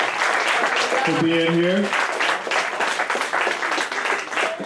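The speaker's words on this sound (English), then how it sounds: "please give him a round of applause" A congregation at a Shabbat gathering claps loudly and continuously, with a speaker's voice briefly rising over the dense applause.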